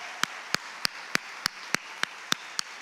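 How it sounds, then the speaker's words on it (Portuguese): Evangelical church congregation clapping in praise to the Lord, heard as a steady single-handed rhythm of sharp claps about every third of a second over a faint room murmur, with no talk. "aplauda ao Senhor aí onde você está"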